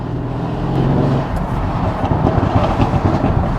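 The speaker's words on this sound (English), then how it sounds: "the car's automatically dropping a gear as well, and you can hear it the moment it drops a gear, it starts crackling and popping" A Mercedes GLE63s AMG V8 drops a gear and its exhaust crackles and pops, loud rough bursts over a droning engine roar.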